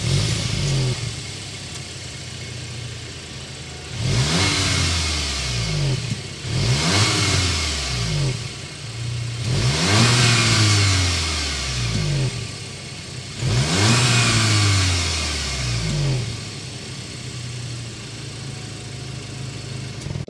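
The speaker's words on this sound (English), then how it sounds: "start it up so you can hear that exhaust" A 2023 Volkswagen Arteon SEL R-Line 4Motion idles, then its exhaust barks through four strong revving bursts in a row, each rising and falling back to a low idle, loud and close with no talking.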